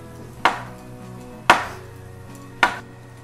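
A knife chops through portobello mushrooms on a cutting board in three sharp, evenly spaced strikes, each a crisp close thunk with a short tail, no voices.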